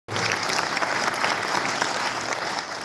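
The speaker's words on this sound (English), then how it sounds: "let's give a big round of applause for it." Brisk, dense applause from an audience at the launch of a 5G lab at a university in Pakistan, starting abruptly and holding steady for about three seconds.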